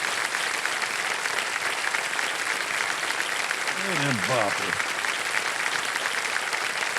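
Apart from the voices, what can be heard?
audience applause for contestant Sarita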